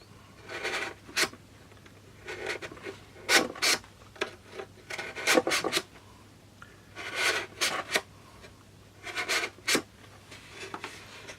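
Nail file rasping a hinge slot into balsa wood, heard as a series of short, scratchy strokes in irregular bursts with brief pauses between, close and moderately loud, no voices.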